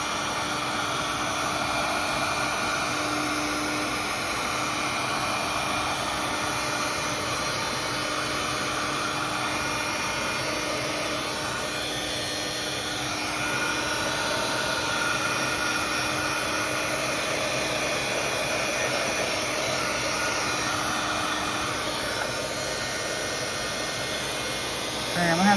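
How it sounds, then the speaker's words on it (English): Heat embossing tool blowing hot air onto a star stream stencil, a continuous loud whooshing roar held steady for the whole stretch with no break. "Let's go ahead and heat emboss from the back. So I'm gonna go ahead and heat it up."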